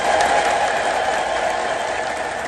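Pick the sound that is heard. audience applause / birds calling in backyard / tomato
audience applause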